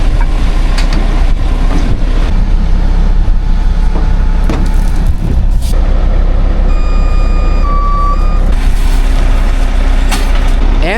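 A HEMTT 10x10 military truck backing up to a tow rig, its loud diesel rumble steady throughout while a string of reversing beeps sounds briefly in the middle, with an air-brake-like hiss near the start.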